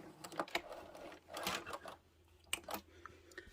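A sewing machine stitching fleece fabric for a toy bumblebee runs in short, quiet bursts of rapid mechanical whirring and clatter, broken by pauses and small clicks, with no talking.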